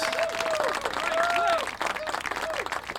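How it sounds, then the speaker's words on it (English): Steady applause from a crowd fills the clip, with a few voices calling out over the clapping. "Applause for Mouse."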